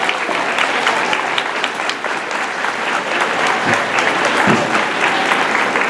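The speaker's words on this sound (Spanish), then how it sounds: "Démosle un fuerte aplauso, por favor." An audience welcomes a physicist to the stage at a girls-in-STEM mentoring event with a steady, full round of applause, fairly loud and continuous, with a couple of low thumps near the end.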